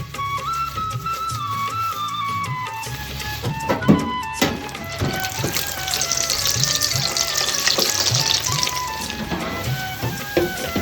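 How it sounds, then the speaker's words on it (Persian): Afghan shami kebabs, five or six at a time, sizzle in hot oil in a deep fryer, a steady crackling hiss with scattered pops and bubbling that grows denser partway through, with no talk. "حالا در فرایر میچینم"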